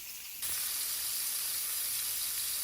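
Country ribs browning in a hot pan burst into a loud, steady sizzle that starts abruptly and holds as a bright, even hiss with no talking.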